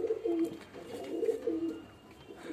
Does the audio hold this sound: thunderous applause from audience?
no